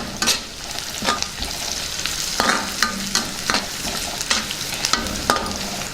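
Rice for popannam with turmeric added, stirred as it fries in a pan: steady sizzling with repeated rhythmic spoon scrapes and clinks, close and fairly loud, no voices.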